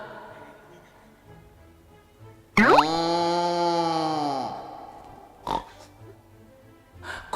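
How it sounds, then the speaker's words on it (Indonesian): A loud pig squeal or oinking sound effect bursts in suddenly over a quiet room tone during an Indonesian podcast, holding for about two seconds before a couple of short thumps follow. "Kok ada suara babi?"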